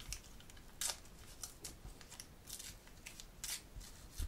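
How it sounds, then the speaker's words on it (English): Tissue paper is torn away in short, crisp rips from a serged seam in slippery chiffon fabric, faint and close, the quick papery bursts spaced irregularly with no talking. "hold the stitching and tear away"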